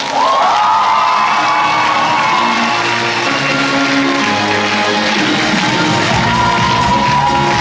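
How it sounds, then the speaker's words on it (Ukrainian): A large crowd cheers and shouts loudly and continuously, with whoops rising above a dense wall of noise that could include clapping. "Под ваши аплодисменты попрошу подняться на эту сцену страх Александра Петровича."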